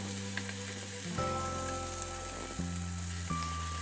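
Spice paste with ground mustard fries in mustard oil for a brinjal dish, a gentle continuous sizzle heard close, with steady tonal music playing underneath.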